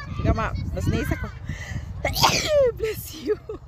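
A single loud, sharp sneeze bursts out at a windy outdoor playground in spring. A voice speaks around it, before and after.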